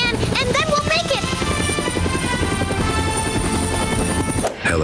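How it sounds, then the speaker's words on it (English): A helicopter in the Poppy Playtime video game, played in Minecraft, gives a loud, constant rotor drone with a buzzing whine that stays close and steady, then cuts off abruptly at the end while voices are heard alongside. "It is the helicopter."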